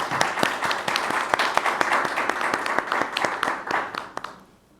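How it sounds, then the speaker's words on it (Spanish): Audience applause for Octavio Pastrana at a panel event on difficult conversations, a dense, steady clapping that stays strong throughout and fades out at the very end. "Fuerte el aplauso, por favor, para Octavio Pastrana."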